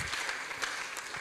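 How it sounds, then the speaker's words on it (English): Brief burst of audience applause at a healthcare preceptorship programme event in Nigeria, a continuous patter of clapping heard at moderate distance. "Please help me give them a round of applause."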